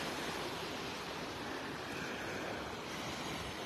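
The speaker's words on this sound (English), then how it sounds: "Just the waves breaking over the sandbars." Calm Gulf waves break over sandbars off Vanderbilt Beach in North Naples, Florida, a continuous soft wash of surf with a low rumble and some wind, no voices.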